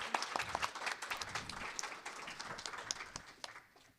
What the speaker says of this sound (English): Can we do one more big round of applause for all of our panelists today?